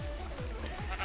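Sheep bleating in a farm video game, several quick, wavering bleats repeating close and clear with no talk over them.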